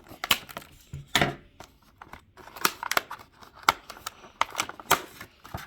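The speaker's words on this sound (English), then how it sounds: "So get our scissors out." Scissors snip and crunch through the plastic packaging of a Greenlight die-cast model car, with irregular sharp cuts and crackling plastic close by.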